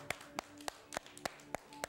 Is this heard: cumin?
no